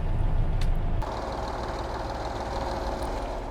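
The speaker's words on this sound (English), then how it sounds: "Alright, let's get this tractor over here." A tractor engine idles in a farming simulator game, a steady low rumble that stays even after a louder, rougher burst in the first second.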